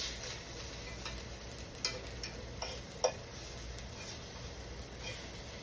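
Flour cooking in a small amount of hot oil in a pan for pot roast gravy, a faint steady sizzle with a few soft clicks of a utensil stirring.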